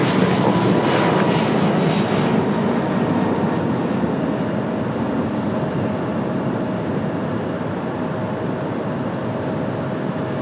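A Southwest airliner spools up for takeoff at Raleigh-Durham airport, a loud, sustained jet roar with broad rumble that holds steady for the whole stretch, with no voices over it.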